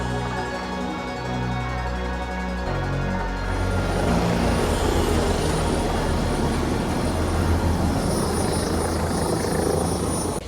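A helicopter takes off in New York: the engine and rotor whine build from a steady hum into a loud, dense rotor wash roar heard from inside the cabin, with no talking.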